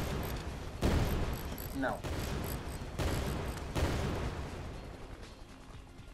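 Artillery fire in a video game booms in several heavy blasts spaced about a second apart, with a brief spoken word among them.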